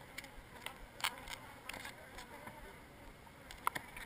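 Bees buzz around a honey-filled dome during a pest-control hive removal: a faint, steady insect hum with occasional brief buzzing passes close by, low in level throughout.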